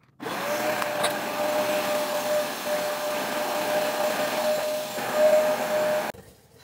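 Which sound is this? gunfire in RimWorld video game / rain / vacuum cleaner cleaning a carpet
vacuum cleaner cleaning a carpet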